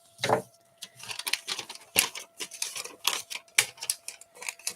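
Scissors snipping around a picture in a magazine, a quick series of close, crisp cuts and rustling paper clips in an uneven rhythm, with no voices.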